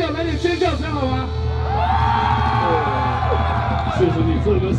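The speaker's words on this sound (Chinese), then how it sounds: "送给在场所有 单身的朋友，来点尖叫声好吗？" A concert audience at a college campus show screams and cheers loudly and continuously, a dense roar of many voices with a few higher whoops over it.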